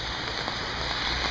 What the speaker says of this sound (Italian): E balliamo sotto la pioggia